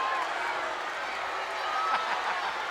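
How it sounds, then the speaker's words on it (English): A partisan wrestling arena crowd keeps up a steady, dense roar through the whole stretch, continuous and fairly loud, with a faint swell of cheering near the end and no clear speech on top. "And again, you hear this partisan crowd."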